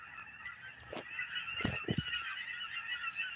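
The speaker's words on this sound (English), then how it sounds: "You hear them birds?" A flock of geese honks over the California delta, distant calls forming a constant chorus with a few louder, nearer honks rising above it in the middle.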